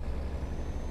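Truck air brake in the Euro Truck Simulator 2 game, a brief, close hiss of released air with a low engine rumble beneath.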